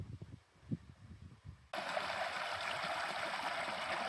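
Rattlebrook, a moorland stream on Dartmoor, running steadily with a broad, even rush of water that starts abruptly partway through, after a quieter stretch of soft rustling and low thumps.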